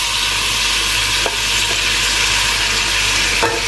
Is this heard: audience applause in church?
no